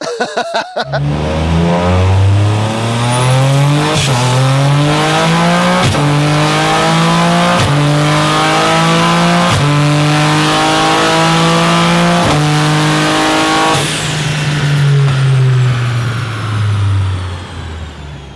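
An 800 bhp, 1.6-litre three-cylinder Toyota GR Yaris with a sequential gearbox revs hard and climbs through repeated gear changes, each rising howl cut by a sharp shift, loud and close before easing off at the end.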